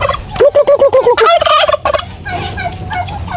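Turkeys in a breeder pen gobble loudly and close by, one rapid rattling gobble call that breaks into a second, overlapping gobble, with no talk.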